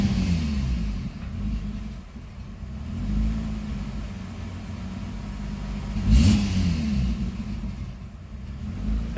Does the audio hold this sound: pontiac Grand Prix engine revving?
yes